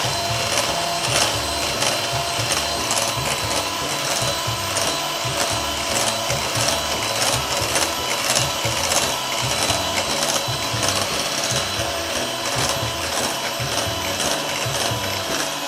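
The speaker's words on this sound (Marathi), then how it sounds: "अच्छा, तर याला हे ब्लेंडरच लागतं." Electric hand blender whipping pineapple sponge cake batter, producing a loud, steady motor whir with a gritty mechanical rattle that runs continuously without pause, close up and with no speech.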